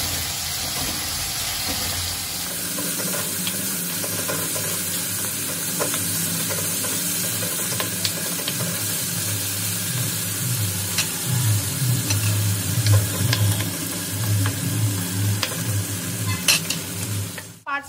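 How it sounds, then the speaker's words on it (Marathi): Greens with salt being sautéed in a pan for a shepu palak bhaji, a loud, close, continuous sizzle and hiss with occasional stirring scrapes, steady throughout and no talk. "ह्याला 5 ते 6 मिनिटं मी चांगलं परतून घेते।"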